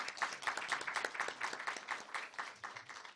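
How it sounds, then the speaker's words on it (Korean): An audience at a science and technology policy forum applauds, a brief, moderately distant burst of steady clapping that tapers slightly toward the end. "박수를 부탁드립니다."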